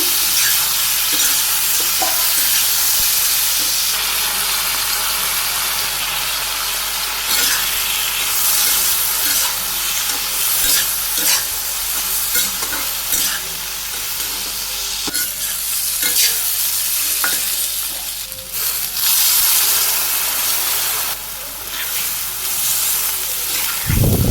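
Mixed vegetables with green chilies and salt frying in a pan for a Bangladeshi vegetable curry, a steady, close sizzle and hiss running unbroken throughout with occasional stirring scrapes and no talk.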